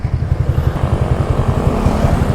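A motorcycle climbs an uphill road near a campsite in Calatagan, Batangas, its engine thudding in a rapid, steady low pulse, close and loud, with a slight rise in pitch toward the end.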